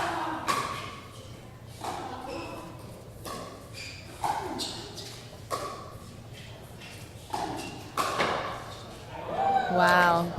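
Paddle strikes on a pickleball sound as sharp, repeated pops at an uneven rally pace during a men's singles match at the Global Challenge Cup, with commentators talking over the play and a light crowd murmur in the background.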